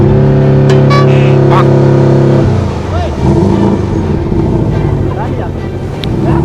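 A car engine is started and revved, a loud droning hum that shifts into rougher, uneven revving partway through, with people talking over it.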